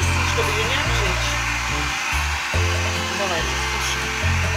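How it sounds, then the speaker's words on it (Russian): Hair dryer on a low setting drying a wet guinea pig after a bath, a loud steady blowing whir that changes pitch in steps as it moves, with some talk in the background. "Давай я включу фен."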